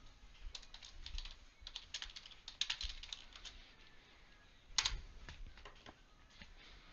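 Quiet bursts of typing on a computer keyboard, rapid irregular key clicks in short runs with small pauses, heard close and alone.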